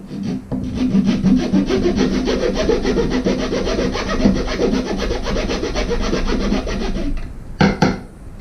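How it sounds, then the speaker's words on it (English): A saw cuts small dados into the ends of wooden boards, a loud, rapid back-and-forth rasp running steadily for about seven seconds before stopping, followed by a couple of short scraping strokes. "Now I have to put small dados in both ends of these boards, all of the boards that I have."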